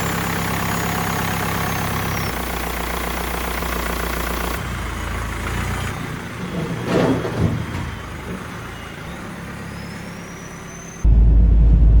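A BMW E46 car drives along with a steady engine drone and road noise, heard from inside the cabin, with a brief rise partway through and a louder low rumble at the end.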